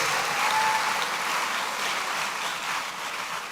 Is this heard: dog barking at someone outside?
no